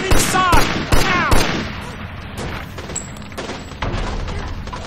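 Artillery fire in the video game Mafia II: a rapid barrage of loud booming blasts up close, with whistling shells and rumbling explosions continuing under a dense roar of battle noise.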